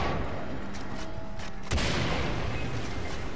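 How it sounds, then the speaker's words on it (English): An explosion in the video game Far Cry 3 bursts out as a sudden boom with gunfire-like cracks, over a constant noisy rumble of in-game ambience that continues after the blast. "That was a pretty awesome explosion."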